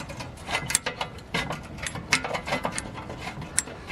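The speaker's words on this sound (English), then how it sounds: "Now I'm gonna spin the star wheel here." Star wheel adjuster of a BMW E36 parking brake being spun by hand, giving a run of quick, light metallic clicks and ratcheting ticks, close and fairly soft, steady over a few seconds with no talk.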